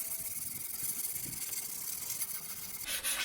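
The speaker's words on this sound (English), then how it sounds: "So we're going to go ahead and just sand the tops" Sandpaper rubs back and forth over a solid-wood side table top in steady, rasping strokes, close by, with a brighter scratchy burst near the end and no talk.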